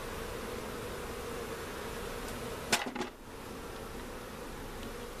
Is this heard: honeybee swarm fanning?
yes